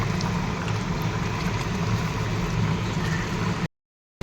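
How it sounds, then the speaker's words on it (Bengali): A mustard fish curry boils in a pan with a dense, steady bubbling and low simmering rumble heard close up, continuing unchanged until it cuts off abruptly near the end. "মাছের ঝালটা টকবক টকবক করে ফুটছে।"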